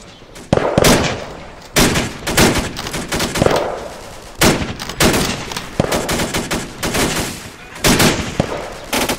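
Gunfire in a World War II–era combat game battle: loud bursts of rifle and machine-gun shots come in clustered volleys separated by brief pauses, close and sharp, with no talking.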